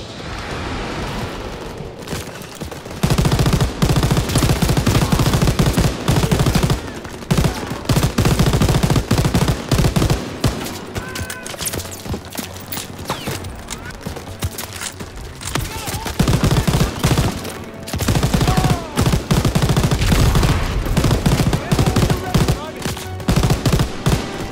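Sustained automatic gunfire and repeated shots from Call of Duty WWII, a World War II shooter, loud and dense with brief pauses between bursts.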